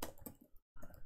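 Computer keyboard keys clack in quick irregular bursts on an Ubuntu machine, close and crisp, with a brief full pause partway through before typing resumes.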